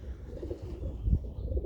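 Pigeons coo inside a loft, making low, soft, steady cooing that blends with a dull background hum and some faint rustling.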